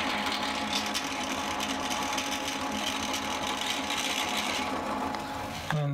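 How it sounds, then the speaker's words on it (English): A drill bores a hole for RV shelf supports, running as a steady, dense mechanical whir for several seconds before cutting off abruptly, close by and without talk. "Let's get this second hole done now."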